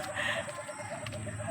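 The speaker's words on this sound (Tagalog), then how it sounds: "Sarap pakinggan ng huni ng ibon." Birds call outdoors near a santol tree, faint cooing and chirping notes repeating against steady background ambience with no talk.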